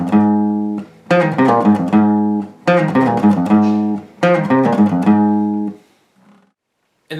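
Acoustic guitar plays a song at full tempo: three strummed and picked chord phrases ringing close and loud, each decaying briefly before the next, ending in a short fading note and silence.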